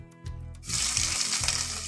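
Cumin seeds, urad dal and onion drop into hot oil and burst into a loud, steady sizzle after a few soft clinks, with no one talking.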